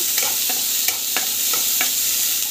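Chana dal, toor dal and urad dal sautéing in a pan, a loud close sizzle of frying with regular scraping stirs roughly every third of a second, no voices.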